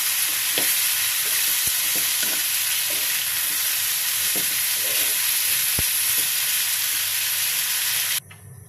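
Turmeric fries in oil in a wok over a low gas flame, giving a continuous loud sizzle and hiss with occasional sharp stirring scrapes and clicks, cutting off near the end.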